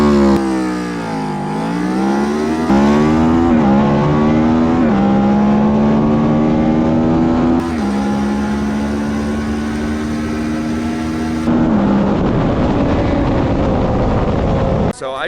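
A Yamaha Vmax motorcycle launches at a drag race, its engine revving loudly, dropping back and climbing again through several rising pitch sweeps before fading; no talk is heard over the engine.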